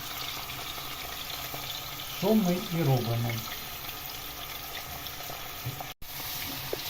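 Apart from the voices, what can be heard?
hot oil sizzling and bubbling while cooking Ukrainian pilaf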